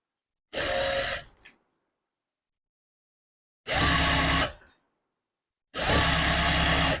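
An electric sewing machine stitching a blouse, three separate bursts of steady motor whirr and needle chatter, each about one to two seconds long, with near silence between them, close and loud, with no speech.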